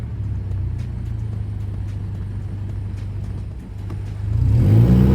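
An Alfa Romeo Giulia with a 4-cylinder engine and aftermarket muffler drives at night, a steady low drone from inside the cabin that rises into a louder, climbing acceleration near the end.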